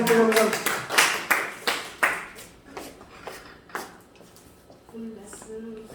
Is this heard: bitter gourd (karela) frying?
no